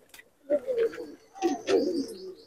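Punjabi Malwai pigeons give two short, close cooing phrases, soft rolling throaty calls with a brief gap between them.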